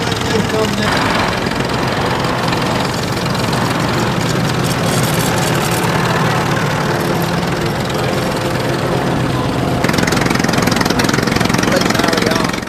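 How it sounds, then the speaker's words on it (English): A restored Irish-built 1924 Fordson Model F tractor runs loud and close, a constant rough engine drone that holds all the way through with steady wind noise and no clear pauses. "The unmistakable shape of the Irish-built Fordson Model F. This 1924 example is particularly nicely restored."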